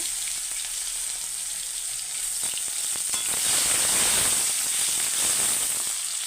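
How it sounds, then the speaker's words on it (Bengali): Chopped onion sizzles steadily in hot oil with nigella seeds, cinnamon and cardamom, a close, continuous frying hiss that swells louder midway as the onion hits the pan, for a rui fish curry. "এখন এখানে আমি দিয়ে দেব পেঁয়াজ কুচি"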